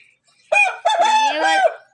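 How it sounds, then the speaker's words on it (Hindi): A fighting rooster crows once, loud and close, a single drawn-out cock-a-doodle-doo lasting just over a second against a quiet background. "ये जो वहाँ से मुर्गा लाए एक ये है और ये अपना वाला है"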